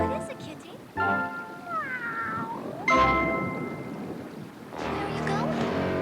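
A cat meows several times in a fairy-tale Sleeping Beauty scene, with drawn-out, wavering mews heard close up amid background music, sound effects and a narrator's voice.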